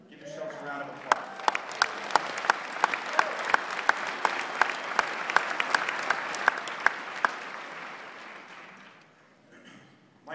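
An audience at a company event for Zija breaks into sustained applause, a dense wash of many hands with sharp individual claps standing out, holding steady for about eight seconds before tapering off, with faint voices at the end.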